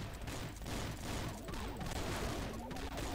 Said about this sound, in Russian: Мы их будем расстреливать с двухстволки, с ружья.